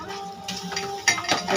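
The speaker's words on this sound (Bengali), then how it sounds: "কাপগুলি এখন ধুয়ে দিতেছি" Coffee cups being washed at a kitchen sink give a few faint ceramic clinks and knocks, close by and quiet, with no talking.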